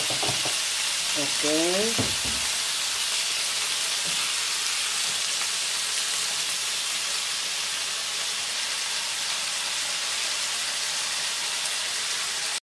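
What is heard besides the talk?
food frying in a pan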